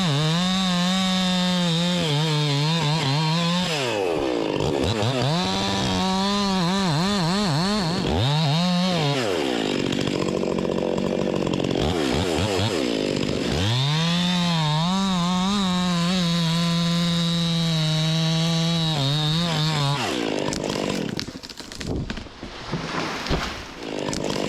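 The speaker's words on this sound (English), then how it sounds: "Jake, just to let you know I'm using a chainsaw" A chainsaw cutting into a tall hemlock tree near a small maple stub, the engine revving up and bogging down in long surges as it bites into the wood, loud and close, then trailing off at the end.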